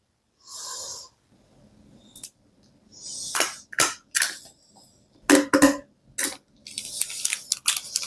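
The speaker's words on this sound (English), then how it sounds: "all we need to do now is staple that to our bag" A stapler punches through a paper bag topper into a bag, making sharp close clacks and crunches in short uneven bursts, with paper rustling between them.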